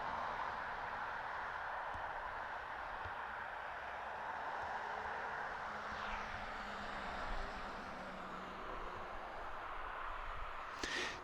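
An aircraft passes overhead near an airport, a steady broad engine roar holding across the whole stretch with a slight rise and fall as it goes by, heard alone.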